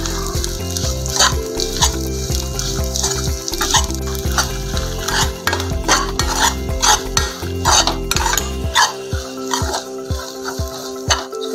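Ghee khurchan roasting slowly in a pan while being stirred, with repeated rhythmic scrapes and knocks of a spoon over a soft sizzle and a low steady hum.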